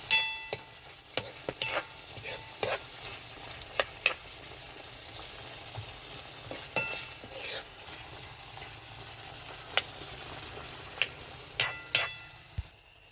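Green peanut curry in a pan being stirred after garam masala goes in, with faint sizzling and a series of sharp spoon scrapes and clinks against the metal, quiet and close.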